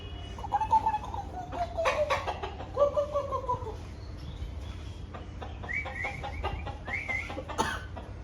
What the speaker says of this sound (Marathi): आता आमचं कोंबडा